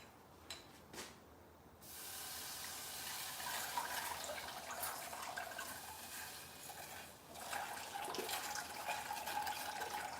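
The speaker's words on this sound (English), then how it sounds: "I'm gonna just add more water." Water running and splashing from a tap into a bowl while sugar cookie icing is mixed, a steady hissing pour that starts after a short pause and carries on for most of the stretch, fairly close.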